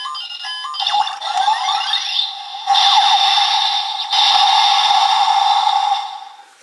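Gashacon Magnum toy blaster from Kamen Rider Ex-Aid emitting its electronic lock-on effect: a rising electronic sweep followed by a steady, loud alarm-like tone that steps up in intensity twice before cutting off.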